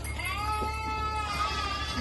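Sheep and lambs bleat on a village farm, several wavering calls overlapping fairly close and steady throughout, with faint rustling and no talk.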